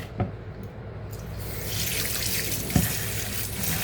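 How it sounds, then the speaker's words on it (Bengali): Running tap water splashes over cut pumpkin greens being washed in a kitchen sink, a steady close rush with a couple of sharp clatters, no talking. "এখন আমি শাকগুলো ভালো করে ধুয়ে নিব।"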